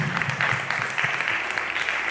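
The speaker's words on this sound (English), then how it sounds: "Clap your hands." A church congregation claps their hands during a sermon, a brief, steady burst of many hands clapping together at moderate loudness.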